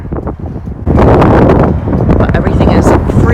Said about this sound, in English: The backyard it's windy today.